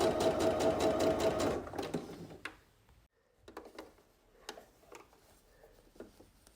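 A sewing machine runs steadily and close for about two seconds while stitching bias binding along a V-neckline. Quiet ticks and handling clicks follow as the fabric is adjusted.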